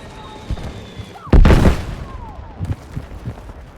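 Battlefield 6 game combat plays loudly, with one heavy explosion boom and several sharp gunshot cracks scattered before and after it amid crumbling-debris action.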